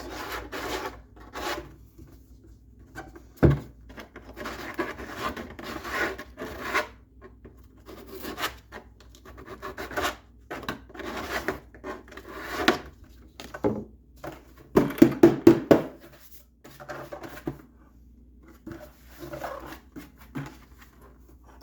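Hand sanding of wood with sandpaper while building a DIY chicken feeder: repeated rough rubbing strokes in irregular bursts, close and moderately loud, with a quick cluster of rasping strokes near the end and no talk.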